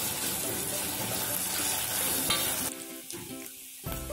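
Onion, cumin and ginger-garlic paste sauté in a pan for pineapple amti, a loud, continuous crackling sizzle with stirring, easing slightly near the end.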